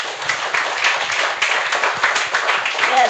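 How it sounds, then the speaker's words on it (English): A graduation crowd for the Augier Combined class of 2025 claps in a dense, steady wash of applause that stays loud throughout, with some voices mixed into the noise. "resounding round of applause"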